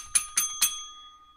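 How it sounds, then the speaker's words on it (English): A desk bell rung by a radio host in a broadcast studio, three bright metallic dings in quick succession, each ringing out and decaying cleanly with no talk over them. "I get to use my bell."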